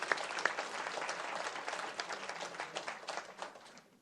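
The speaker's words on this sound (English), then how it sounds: "Let's give her a round of applause" Audience applauding a student at a school board of education meeting, steady clapping from many hands in an indoor room, moderately loud and sustained for the whole stretch with no talk over it.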